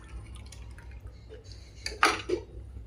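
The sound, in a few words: dahi kadhi with besan coming to a boil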